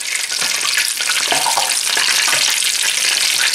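Griwech pastry flowers fry in hot oil with a loud, constant hiss and crackle that fills the whole stretch, broken by a few soft bubbling pops and no voices.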